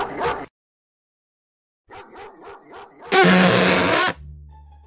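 A dog barks in a quick run of four or five yelps, then lets out a louder, sustained growling snarl before a low hum settles in; a brief noisy burst opens the clip before a stretch of silence.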